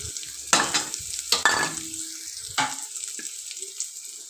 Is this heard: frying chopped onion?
yes